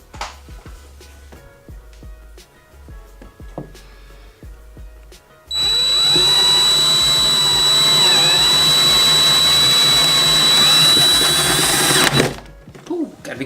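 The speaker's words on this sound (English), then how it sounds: "we're first going to start with drilling the hole to get the coupling in for the new wires" A power drill bores a hole into a car headlight housing, a loud, continuous high whine starting partway through after some quiet handling clicks and stopping abruptly near the end.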